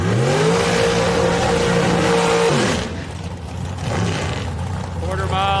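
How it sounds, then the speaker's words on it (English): Quarter-mile dragsters at a bracket race roar loudly off the line at Houston Raceway Park, then the engine note drops away into distant rumble and lighter mechanical whine, with faint background murmur. "Quarter-mile dragster."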